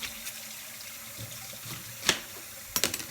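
Tap water runs over lettuce being washed in a kitchen sink, a soft steady splash with a few sharper spattering bursts near the end, close and fairly quiet, with no talking.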